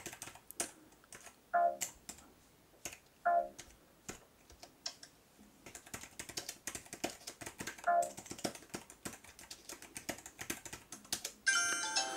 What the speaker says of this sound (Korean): 키보드 공간이 되게 작아서 타이핑하기는 쉽지 않을 것 같고